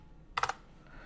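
A quick burst of three or four crisp keystrokes on a computer keyboard while entering SQL commands, close and clear against a quiet room.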